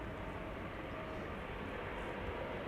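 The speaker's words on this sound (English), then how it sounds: "SAS Embraer 195 arriving from Copenhagen." An SAS Embraer 195 airliner on arrival at Amsterdam Schiphol, heard as a faint, steady jet roar, distant and continuous, with no clear peak.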